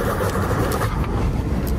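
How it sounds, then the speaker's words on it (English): A car with a loud exhaust muffler rumbles steadily at close range, a dense low drone that holds level for the whole short stretch without pauses. "Speeding and a loud exhaust."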